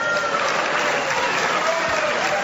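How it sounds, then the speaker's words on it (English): A boxing crowd applauds, a dense, even wash of clapping that stays steady and fairly loud throughout, with no other sound standing out. "He gets applause from the crowd around here as well."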